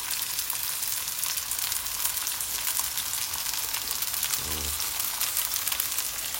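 Bell peppers fry in a pan with a steady, dense sizzle that holds at an even level throughout, close by, with a brief low thump partway through.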